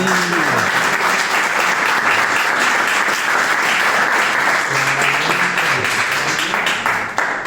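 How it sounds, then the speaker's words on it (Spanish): A loud, sustained round of clapping from the audience at the close of a conversation in a mathematics education master's program, continuous and even throughout, with a few faint voices in the crowd. "No hubo necesidad de que yo pidiera aplauso."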